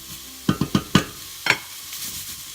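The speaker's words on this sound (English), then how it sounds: "we're going to saute these veggies for about 3 to 4 minutes until they're nice and soft" Chopped vegetables being stirred in a tablespoon of olive oil in a pan, a few quick scraping stirs in a row with faint sizzling underneath, then one more stir after a brief pause.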